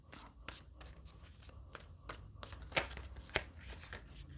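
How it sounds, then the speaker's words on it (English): Tarot cards being shuffled and drawn close by, a steady quiet riffle and flutter of cards with a couple of sharper slaps as cards are pulled, with no talking. "Let's draw some more cards here"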